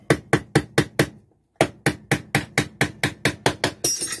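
Small panel pin tacks are hammered into a recycled tin can robot with quick, evenly spaced metallic taps, five strikes, a short pause, then about ten more close, crisp hits.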